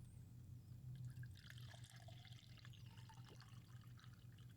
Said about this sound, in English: That was me pouring the water out.